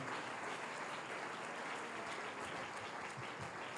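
Steady, dense applause from a church congregation during a Spanish-language sermon, loud and continuous throughout with no talk over it.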